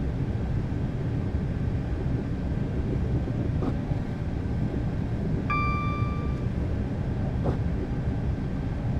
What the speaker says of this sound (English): I've shut the power off to neutral to let the train coast